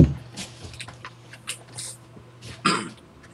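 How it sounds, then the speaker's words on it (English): A person blows their nose close to the microphone, with a short burst at the start and a louder, breathy honk near the end, separated by quieter sniffing and rustling. "I'm gonna blow my nose."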